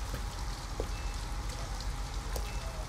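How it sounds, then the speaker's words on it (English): Rain falls steadily near an abandoned house in Detroit: Become Human, an even hiss of drops with a few faint taps and drips scattered through it, no voices. "At least we'd be out of the rain."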